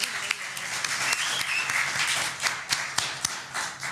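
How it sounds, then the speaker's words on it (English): Applause from a group gathered at a church after-service workshop, moderate scattered clapping with distinct sharp individual claps, fairly soft and sustained. "You all want to clap? Yeah, let's clap."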